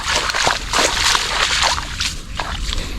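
Water sloshing and splashing steadily as calamansi plants beside a hut are watered, a continuous wet spray with irregular splatters, fairly close and loud, with no talk.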